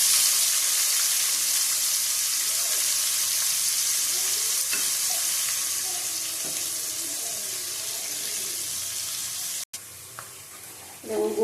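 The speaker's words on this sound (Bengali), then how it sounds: "তেজপাতা ভাজা হয়ে গেছে, পেঁয়াজ দিয়ে দেবো।" Onion dropped into hot oil with fried bay leaf, giving a steady close sizzle that fades slightly over time, with a brief clatter near the end.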